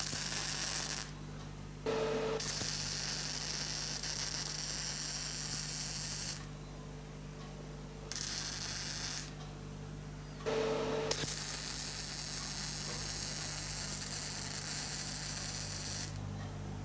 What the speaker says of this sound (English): Now we're going to put a fairly heavy MIG weld around each one of those joints